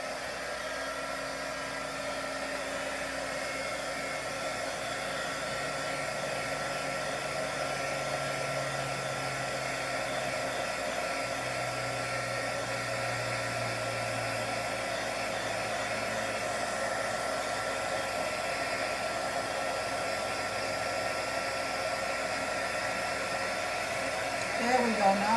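Heat tool blowing hot air to melt gold embossing powder on a handmade card: a constant, close, whooshing fan roar that holds steady for the whole stretch without any speech.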